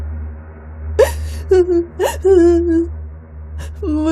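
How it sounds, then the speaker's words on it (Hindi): A young child, about four or five years old, cries in gasping whimpers and drawn-out wails, close and clear, in repeated bursts separated by short pauses over a low steady hum. "4-5 साल का बच्चा रो रहा था।"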